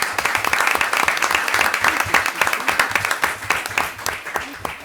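An audience at a school board of education meeting claps steadily, dense close applause from a modest indoor crowd that thins slightly toward the end.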